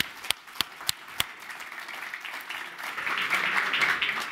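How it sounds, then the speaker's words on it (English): Applause greets a speaker walking onstage at a Bitcoin Private conference in New York: a few sharp separate claps first, then the clapping of the audience builds into a fuller, louder wash toward the end. "please give him a round of applause as we welcome him to the stage"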